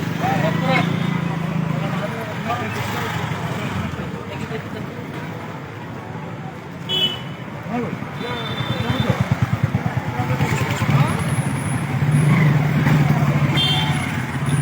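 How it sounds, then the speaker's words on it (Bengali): Road traffic with a motorcycle engine rumbling nearby, revving and fading, while people talk over the noise. "মোটরসাইকেল"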